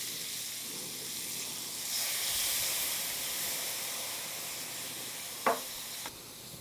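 Tequila sizzling as it burns off in a hot pan with shrimp, lime, garlic and cumin, a soft steady hiss that swells briefly, with a sharp clink of a utensil near the end.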